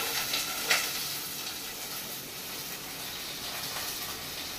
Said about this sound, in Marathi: ते जशें तापले की पयलीं तातूंत हांव घालतले हांवें बारीक चिरून कांदो घेतलो.